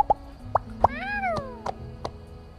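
A cat meows once in the game My Time at Sandrock, a rising then falling tone lasting under a second, set among soft game plops and clicks with steady background music.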